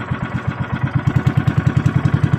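A boat engine runs steadily out on a fishing trip, a close, loud, evenly pulsing low chug that holds a fast regular beat throughout with no talk.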